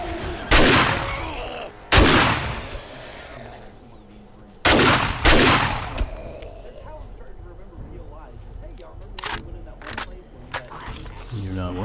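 A shotgun fires in 7 Days to Die, four loud booming blasts with echoing tails at irregular intervals, two close together, followed by clattering game sounds and lighter clicks.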